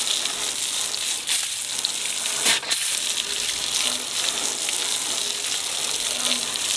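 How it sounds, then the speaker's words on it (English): An Aqua Joe Fireman's hose nozzle blasts water to rinse off grease, giving a continuous, close, hissing spray with a brief splashy burst partway through. "we've got the Aqua Joe Fireman's hose nozzle. All right, let's rinse it off"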